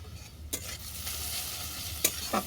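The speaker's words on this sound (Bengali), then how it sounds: "এই সমস্ত উপকরণ ভালো করে কষিয়ে নেব" Spiced ingredients for a vegetarian fig kofta curry sizzle steadily in a hot pan, with a few sharp scrapes of a stirring spoon over the constant frying hiss.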